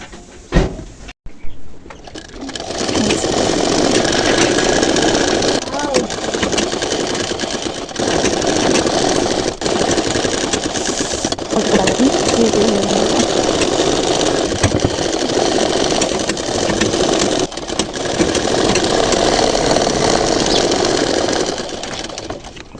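A sewing machine runs steadily while topstitching the elasticated waistband of palazzo trousers. Its close, continuous mechanical whir lasts about twenty seconds, with only brief dips and no talk.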